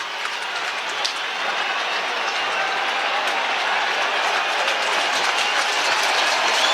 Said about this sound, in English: Carlton fans making a bit of noise as the crowd starts to thin out